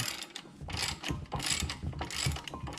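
Rapid clicking of a hand ratchet tightening a bolt on a 2018 Chevrolet Malibu front brake during rotor replacement, heard as a steady run of close, sharp ratchet strokes with slight pauses.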